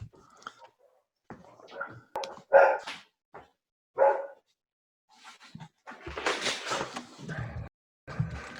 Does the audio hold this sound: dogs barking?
yes